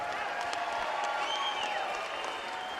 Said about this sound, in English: let's have a big round of applause for both of the fighters in this ring.